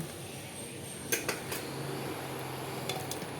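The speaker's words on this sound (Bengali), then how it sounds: "কষানো মাংস আমি প্রেশার কুকারের মধ্যে আমি দিয়ে দিচ্ছি" Cooked, browned mutton going into a pressure cooker, heard as a few clustered metallic clanks and scrapes of a spoon against the pot over a quiet steady background, then two more light clinks near the end.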